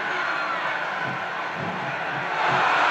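A large arena crowd in WWE SmackDown vs. Raw 2007 roars in a steady, dense wash of cheering and noise, swelling slightly toward the end.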